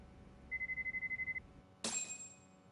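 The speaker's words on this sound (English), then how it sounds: "The phone's ringing." In the video game Lost Judgment, a phone gives one fast electronic ringing trill of roughly ten even pulses, clear and close, then a sharp bright chime-like hit cuts in afterward over faint background hum.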